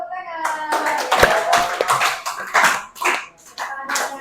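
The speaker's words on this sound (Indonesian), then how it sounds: "Ya, tepuk tangan." Students in a school classroom clap their hands in a short, uneven burst, close and fairly loud, mixed with children's voices and talk.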